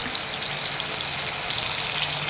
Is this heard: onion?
yes